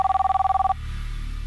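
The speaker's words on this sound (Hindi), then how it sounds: "आपको फोन है।" A telephone bell rings in a fast trilling burst for under a second, then stops, leaving a low room hum.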